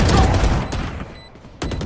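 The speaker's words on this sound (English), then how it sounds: "Placing swarm grenade." A swarm grenade goes off in a shooter game, heard as a loud, dense burst of rapid crackling blasts. The sound thins and drops away, then another sharp burst cuts back in near the end.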